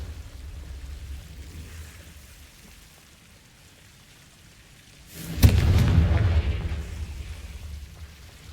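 Hogwarts Legacy's Confringo blasting spell detonates after a long stretch of low, quiet rumble. One loud, sudden boom hits partway through, then rolls off into a lingering crackling decay.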